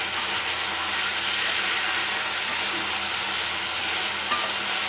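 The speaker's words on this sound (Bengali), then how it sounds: "আর এই যে ভালো করে আলুটাকে ভেজে নিই" Potatoes fry with turmeric, black cumin and dried chilli in a pan, giving a continuous, even sizzle with occasional soft stirring scrapes and no voices.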